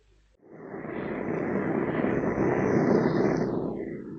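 Steady aircraft engine drone of a plane in flight from Singapore, swelling in after a brief quiet start and holding a broad, loud hum with no voices.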